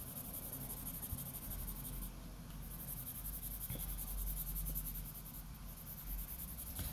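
A pencil shades a drawing on paper in even strokes, a soft continuous scratchy rasp that stays faint and steady throughout with no talking.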